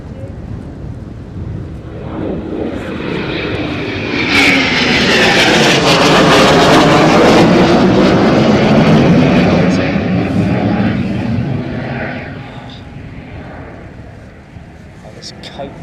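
RAF No 3 Squadron Typhoon jets return to RAF Coningsby, a loud jet roar swelling over several seconds to a sustained peak and then fading, with wind buffeting the microphone.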